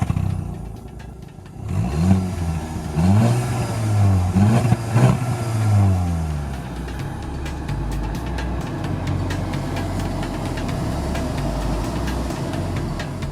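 Skoda Octavia RS petrol car engine pulling through rising and falling revs while driving, with a steady mid-low hum and swelling accelerations up close, no talking.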